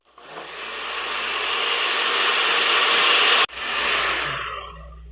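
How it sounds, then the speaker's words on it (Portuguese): A blender whirs steadily as it purées peanuts into cake batter for a Brazilian formigueiro cake, a loud continuous motor drone that cuts out briefly and then restarts. "agora você vai bater até processar e liquidificar"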